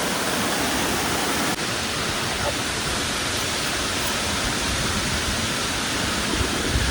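Steady, dense roar of water from a waterfall at Adyar Falls near Mangalore, a continuous broadband rush close by with no clear talk over it.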